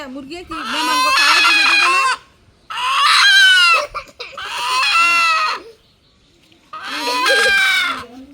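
Chickens cluck and squawk loudly nearby in four drawn-out bursts separated by short pauses.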